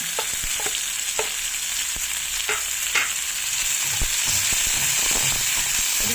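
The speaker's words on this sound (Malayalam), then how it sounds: "ഒരു മിനിറ്റ് സമയം നമുക്കിതൊന്ന് ഇളക്കി കൊടുക്കാം." Tomatoes and curry leaves frying in a pan for bun dosa, with a continuous loud hiss of hot oil and scattered spoon scrapes and small pops as they are stirred, close up and with no talking.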